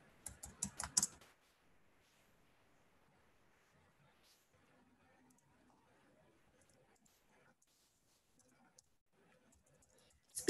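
A short burst of rapid computer keyboard typing opens, a quick run of clicks lasting about a second, followed by near silence with only a faint click at the very end.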